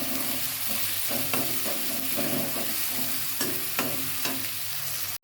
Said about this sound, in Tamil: அதுக்கப்புறம் பூண்டு, பச்சை மிளகாய் சேர்த்துக்கலாம். சேர்த்துட்டு நல்லா வதக்கிடலாம்.